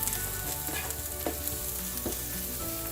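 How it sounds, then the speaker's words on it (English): Onions cooking down in a pan for a dry red chilli beef masala give a dense, even sizzle with a couple of faint stirring taps, close and with no voices. "While here my onions are cooking down"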